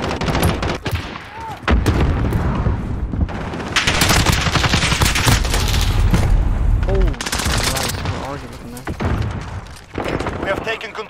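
Call of Duty Modern Warfare multiplayer firefight with loud, close bursts of automatic gunfire and sharp single shots in rapid clusters, broken by brief lulls, while voices call out over the shooting.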